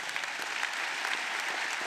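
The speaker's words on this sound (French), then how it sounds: "oui, on peut l'applaudir." Crowd at a political rally of the Union populaire in Montpellier breaking into sustained applause, a dense, even roar of many hands clapping throughout, heard alone without speech.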